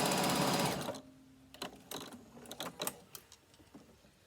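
A sewing machine stitches down the side of a fabric bag, running loudly for under a second before stopping, followed by scattered soft clicks and handling taps.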